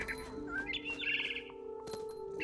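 Agitated chirps and tweets from a frightened bird in the video game What Remains of Edith Finch, several quick calls close up over a steady game hum, with no talking.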